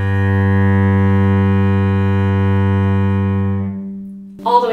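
A modern cello played with a modern bow in one long, steady bow stroke holding a single rich, sustained note at even loudness for about four seconds before it stops, followed by a brief faint noise.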